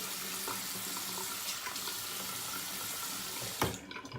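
Tap water runs steadily into a sink while a face is rinsed after a shave, a continuous close hiss with a brief louder splash near the end.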